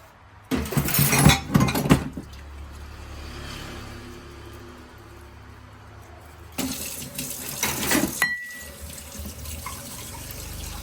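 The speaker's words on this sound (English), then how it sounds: "before I start cooking, I should probably wash the breakfast dishes first." Dishes being washed under a running tap in a small home kitchen sink, with two bursts of splashing water and clinking separated by a quieter stretch of low background hum.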